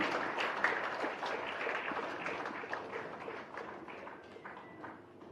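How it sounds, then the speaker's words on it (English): Audience applause at a Bengal day ceremony attended by a state governor, where a traditional shawl is presented; steady, dense clapping fills the whole stretch at moderate loudness, slowly thinning toward the end. "Celebration means sounds, and here it means applause."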